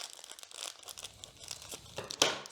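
Scissors cutting open card packaging for a board game make close, crisp crinkling and snipping sounds of plastic and paper in a quiet room, ending in a louder tearing snip.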